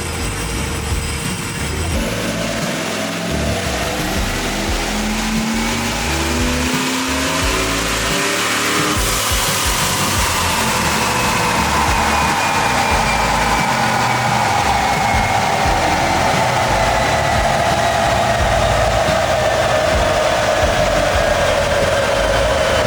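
Supercharged LS-swapped Jeep Wrangler on a dyno, engine revving up through long rising sweeps with supercharger whine climbing, loud and close, then holding a high sustained roar.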